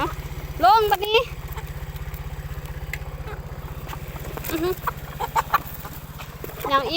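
Chickens clucking outdoors on a farm, several short squawks and clucks rising over a steady low engine-like hum, with people talking intermittently.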